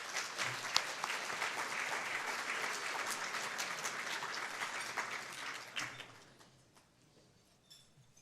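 A gala audience claps steadily in a hall for about six seconds, loud and dense, before the applause thins out and dies away to a few scattered claps.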